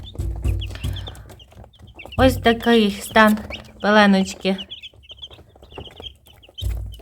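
Fifty-three chicks, one to four days old, crowd a brooder box and keep up a continuous high peeping, while a person talks nearby in short bursts.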